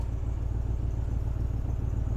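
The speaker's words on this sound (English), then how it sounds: "Trunk. New release. New pull down motor." A new soft-close trunk pull-down motor on a 1995 Cadillac Fleetwood gives a steady, low mechanical hum that runs continuously and fairly loud, with no voices.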